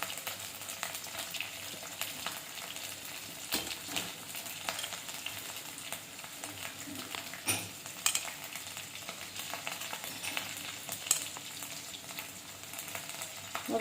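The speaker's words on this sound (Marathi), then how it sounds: "आता आपण हा भात छानपैकी एकजीव करून घेऊया" A spoon stirs cooked rice in a pan while it is mixed into a seasoned rice dish: continuous soft scraping and sizzling with small clinks, steady and close, with no talk.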